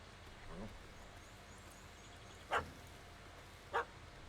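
A dog in The Witcher 3 lets out two sharp, short barks a second apart, mid-distance and fairly faint, with a soft yelp before them over a quiet game ambience.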